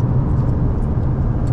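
Inside a car speeding along the Solapur highway on a long drive, a steady loud low rumble of engine and road noise fills the cabin without a break.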